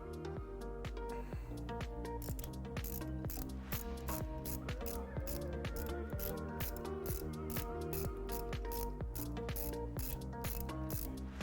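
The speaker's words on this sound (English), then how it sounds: "I'm going to come in with a ratchet to spin this" A ratchet spins a bolt extractor seated on a broken bolt, giving a close, steady stream of rapid metallic clicks that keeps an even rhythm for the whole stretch with no talking.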